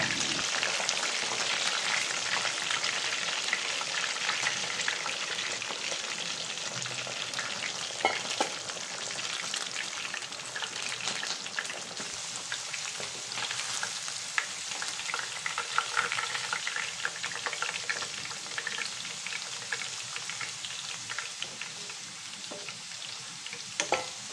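Pork belly deep-frying in hot oil gives a steady, dense crackling sizzle with scattered louder pops, close and continuous throughout.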